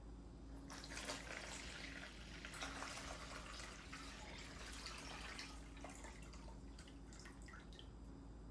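A quart of liquid poured through a strainer into a pot gives a continuous splashing, trickling flow with dripping spatters. It runs steady for several seconds at moderate loudness, and no one speaks.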